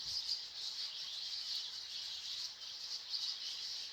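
Steady high-pitched chirping and trilling from birds in a video game, a continuous bright twittering with a few louder peaks, no voices.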